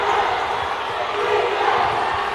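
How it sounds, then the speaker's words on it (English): Crowd at a DIMO men's E Division basketball league final makes a loud, steady roar of cheering and shouting that fills the whole stretch without pause. "As you hear the DIMO crowd making its voice heard"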